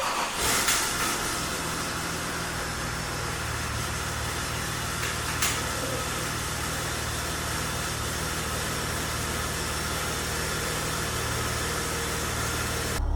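Rebuilt diesel engine of a Range Rover L405 on a cold start, smoking from the exhaust: a steady, loud idling rumble with a low drone and a broad hiss, running evenly throughout.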